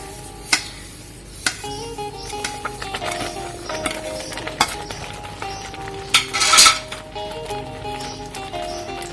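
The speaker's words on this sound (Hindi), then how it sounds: "अब इसमें नारियल का चूरा मिक्स करेंगे।" Coconut powder being mixed into thickened milk in a pan, with a spoon knocking and scraping the metal in scattered clicks and one louder scrape, close by, no talk.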